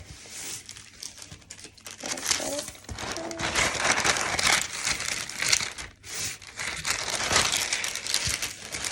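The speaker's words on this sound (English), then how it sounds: "Sorry if that rustling is super loud in the microphone" Loud, close paper crinkling and rustling, continuous crumpling bursts with brief pauses, right up against the microphone, while preparing cotton fabric for inkjet printing.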